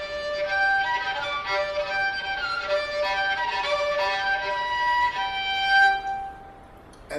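String quartet players sounding natural harmonics by lightly touching the strings, giving thin, whistling high tones that shift pitch in a steady sustained line for several seconds before fading out, with no talking.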